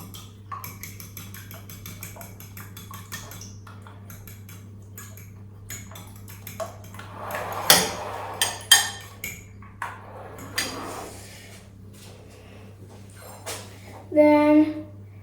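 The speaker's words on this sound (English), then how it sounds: "Into the bowl. Then whisk them up." A whisk beats cake ingredients in a bowl for a Halloween coffin cake, making quick, regular metallic ticking strokes at first, then scattered louder clinks and scrapes against the bowl.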